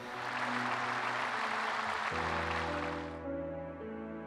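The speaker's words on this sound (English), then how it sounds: "Thank you very much for your gracious applause." Applause in a Super Robot Wars Y video game cutscene: a dense, steady crowd clapping over background music, fading out after about three seconds and leaving only the music.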